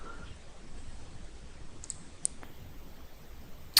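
A few faint, sharp computer mouse clicks, spaced apart over a quiet background hum.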